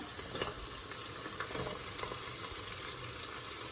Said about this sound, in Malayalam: ഉള്ളി ഇട്ട് ഒന്ന് വഴറ്റാം.